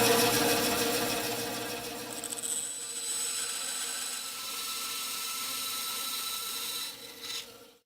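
A hand coping saw cuts angled notches into a wooden round wall shelf, a steady rasping back-and-forth stroke held close and continuous for most of the stretch, tapering off near the end.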